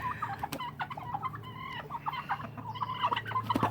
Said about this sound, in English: Yep, there goes the turkeys.